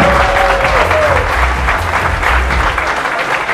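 Loud, steady applause from a crowd at a Muay Thai kickboxing event, dense clapping that fills the space throughout without letting up.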